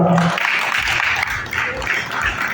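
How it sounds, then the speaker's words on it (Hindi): An audience claps steadily in a hall for a young performer being welcomed to the stage, the applause mixed with some crowd murmur. "तालियों की गड़गड़ाहट के साथ"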